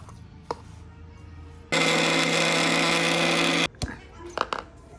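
Kitchen mixer grinder blending a spice paste of chilli, coconut and onion, one loud steady whirring burst of about two seconds between quieter handling clicks and knocks.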